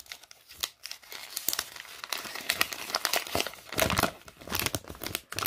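Paper from a Halo Infinite Mega Construx blind bag crinkled and torn open by hand, a close, irregular run of crackling rustles and short tearing bursts with no talking.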